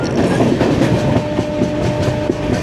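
Rajdhani Express running through Roha station without stopping, steady loud rumble of coaches with rhythmic clickety-clack of wheels over rail joints throughout.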